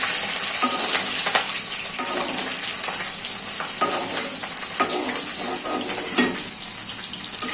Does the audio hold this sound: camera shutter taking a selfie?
no